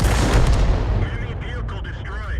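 A tank cannon fires in a tank battle video game: a loud, booming low blast that rumbles and slowly decays, with faint voice chatter underneath.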